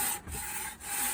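A fairly fresh hand saw blade cuts through wood in a steady back-and-forth rasp, two short dips marking the stroke changes, close and alone.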